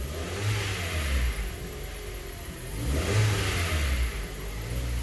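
A 2012 Hyundai Accent with a faulty direct-injection high-pressure fuel pump revs twice as the throttle is pressed, the engine note rising and falling in two close, steady surges with no talking.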